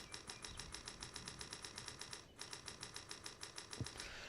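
A video game controller's square button is mashed rapidly, giving a fast, even train of light plastic clicks with one brief pause, close and fairly quiet.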